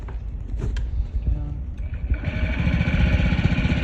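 A Honda Ruckus scooter fresh from a carburetor rebuild cranks over and then catches, settling into a steady, fast-pulsing idle close by.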